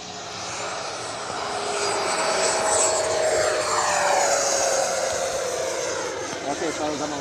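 An E-flite Viper 90mm electric ducted-fan RC jet flying overhead, a steady whooshing roar that swells and fades with a faint whine sliding across it, with people talking nearby.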